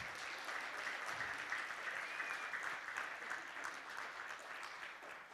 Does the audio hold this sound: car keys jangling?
no